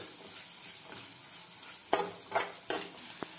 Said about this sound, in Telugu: ఆనియన్స్ వేగిపోయినాయండి.